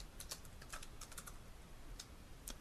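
Keys on a computer keyboard are tapped in a short, light run of clicks over a steady background hiss, faint and close with no voices.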